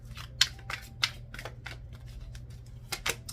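Tarot cards are shuffled close by in quick, irregular bursts of crisp flicking and slapping, with pauses between.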